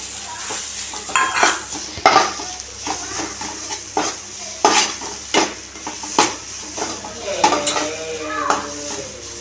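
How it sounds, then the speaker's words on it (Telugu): Grated coconut being roasted and stirred in a pan for sooji laddu, with a soft sizzle under repeated scraping and clinking of a spoon against the metal, while someone talks nearby. "కాస్త పచ్చిపాసన పోయేంత వరకు వేపుకుంటే సరిపోతుంది"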